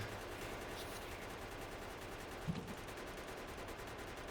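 Turret in Factorio firing yellow ammo at biters: a continuous, fairly faint rattle of rapid automatic gunfire over a steady background, with one brief sharper crack midway.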